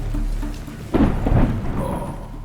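Thunder from a storm in The Last of Us, a sudden deep rumbling crack that swells and rolls for over a second before fading, with a soft rain-like hiss beneath and no speech.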